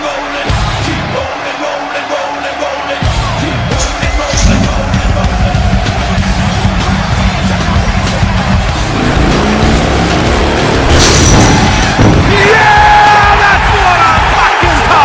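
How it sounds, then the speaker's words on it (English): A motorcycle smashes through the side of a steel cage at a live Ragnarok WarGames wrestling event, a loud continuous engine roar and crashing mixed with a yelling, whooping crowd throughout. "Cor just drove his motorcycle through the side of the cage."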